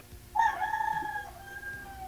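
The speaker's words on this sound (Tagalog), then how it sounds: "Manok." A rooster on a farm with water buffalo and goats gives a single loud crow close by, its drawn-out call rising and then trailing off over quiet background noise.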